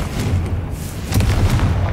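A Confringo fire spell from the video game Hogwarts Legacy bursts in a deep, booming explosion that rolls on steadily across the moment, with a second heavy surge of impact partway through; no speech.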